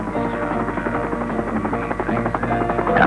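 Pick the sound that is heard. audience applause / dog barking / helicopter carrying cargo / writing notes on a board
helicopter carrying cargo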